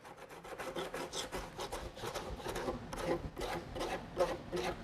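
Rapid back-and-forth rasping of hand sanding fiberglass on a car audio hatch, close up and steady, with quick rhythmic scratchy file-like strokes and no talking.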